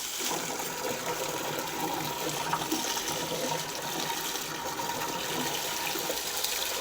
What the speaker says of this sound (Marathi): आता पटापटा पटापटा पाणी पिऊन घेतात